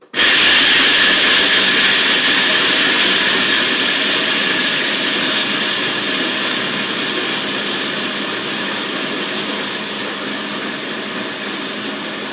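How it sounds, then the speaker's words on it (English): A food processor grinding almonds for tart dough, starting abruptly as a loud, close, whirring roar and holding steady, easing slightly over about twelve seconds with no talking. "I just begin a little blender dance with the almonds"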